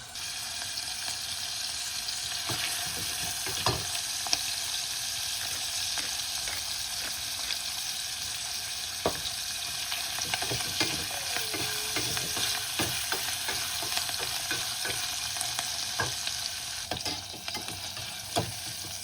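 Food cooking in butter in a pan, a steady close sizzle and frying crackle with intermittent stirring scrapes and clicks, no voices.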